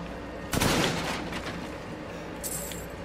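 Gunfire in the video game Resident Evil Village: one loud, sharp shot with a crackling tail that fades over a steady background hum, and a faint high tone follows later.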